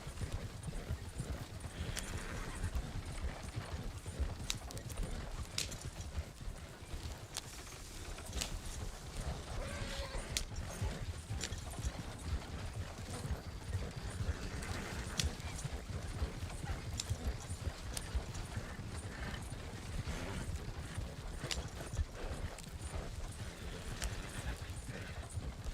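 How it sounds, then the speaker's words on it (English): Horses trot along a dusty trail in a western roleplay game, their hooves clip-clopping in a steady, continuous rhythm at moderate distance throughout. "I believe in the abilities of these horses."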